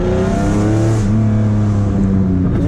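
A 2000 Lamborghini Diablo GT engine pulls hard under acceleration, a loud steady wail from inside the car that climbs in pitch, eases with a shift, then keeps rising, with no talk over it.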